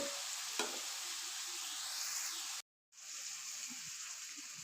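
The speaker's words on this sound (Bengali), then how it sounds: "আমি নাড়াচাড়া করে বাদামি কালার করে নিচ্ছি" Onions sizzle steadily in a pan for a Bengali fish do pyaja while a utensil stirs them toward browning, a close, continuous frying hiss with a short silent gap and soft scraping taps.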